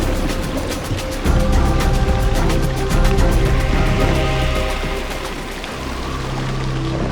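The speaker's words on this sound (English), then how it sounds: "the rains pour steadily for 40 days and 40 nights." Heavy rain pours down steadily, a loud, dense and unbroken wash of noise that lasts throughout, with no voices.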